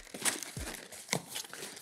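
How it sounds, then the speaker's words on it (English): Packing paper being crumpled and stuffed into a cardboard shipping box for an Amazon FBA shipment, giving a couple of quick, close crinkling bursts with rustling between them. "You're gonna wanna put packing paper."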